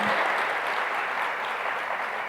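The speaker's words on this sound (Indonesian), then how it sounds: "Tepuk tangannya boleh yang meriah buat Tuhan kita yang luar biasa." Church congregation applauding enthusiastically during a sermon, a steady dense wash of clapping that stays loud and even throughout.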